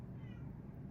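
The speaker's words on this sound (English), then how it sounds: "sorry, you can hear my cat meowing." A pet cat meows softly indoors, a single faint, brief meow over a low room hum, heard alone with no talking.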